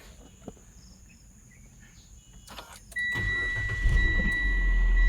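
A car engine powered by a lithium battery cranks and catches in a single start, then idles steadily and loud at close range, after a quiet stretch with faint background noise and a brief click.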